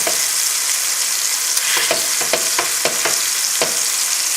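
Flour-dusted turkey medallions sauté in a hot pan, giving a steady close sizzle and crackle with scattered sharper pops and stirring clicks, no voices present.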